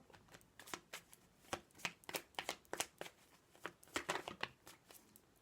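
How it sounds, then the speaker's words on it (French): Oracle cards being shuffled and drawn by hand, heard as soft, close riffling and flicking bursts in an uneven rhythm, quiet throughout. "On va tirer 3 cartes de cet oracle."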